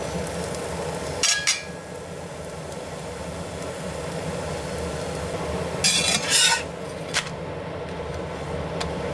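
Chinese scallion pancake crisping in a pan on the stove, a steady low sizzle with a couple of brief louder scraping bursts from flipping or moving it.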